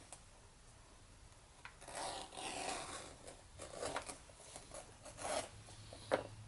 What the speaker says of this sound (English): Just gonna edge bevel the whole thing.